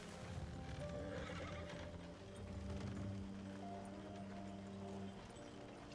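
A horse whinnies loudly with steady clip-clopping hooves beneath, the neigh rising and falling over a continuous low rumble.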